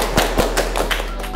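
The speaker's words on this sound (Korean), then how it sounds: "자, 모두 박수!" Members of 7DREAM clap together at the start of an MBTI talk segment, with a handful of sharp, close hand claps in an uneven rhythm over a low steady hum.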